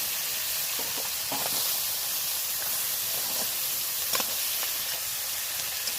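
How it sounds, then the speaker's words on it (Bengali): Crab pieces frying in hot oil for a spicy Bengali crab curry give a faint, even sizzle and hiss that runs throughout, with a few soft clicks of pieces being turned and no voices. "যেমন মাছ ভাজে উল্টে পাল্টে তেমনভাবে ভেজে নেব"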